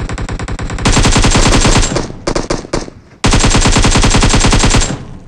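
AKM assault rifle fire in a mobile battle royale video game: loud, close bursts of rapid automatic shots that pause briefly mid-way, then resume in a second long burst.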